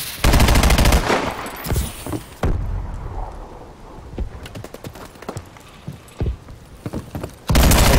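Pistol gunfire in a team deathmatch hardcore video game, heard as loud sharp shots in irregular bursts that recur across the stretch. Some blasts are isolated and some come in quick succession.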